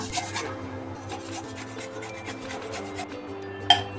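Dahi vada batter is stirred steadily in one direction, giving a continuous soft rubbing and scraping against the bowl with a faint low hum underneath and a small knock near the end.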